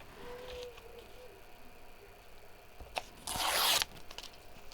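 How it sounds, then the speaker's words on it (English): A paper doily torn by hand in a quiet room: one short, bright ripping tear, close and fairly loud, standing alone after a few faint rustles. "Maybe I'll just tear that."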